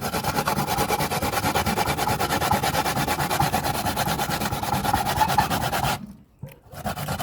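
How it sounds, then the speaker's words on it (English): Coconut grated by hand scrapes in a fast, even rhythm of rasping strokes, close and steady, then breaks off with a brief pause near the end before resuming. "Phase 2, grating of the coconut."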